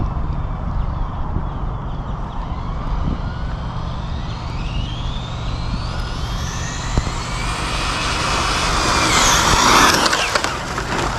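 A Traxxas XO-1 RC car speeds over a damp surface on slick tires, its electric whine climbing steadily in pitch as it accelerates and nears, loudest toward the end.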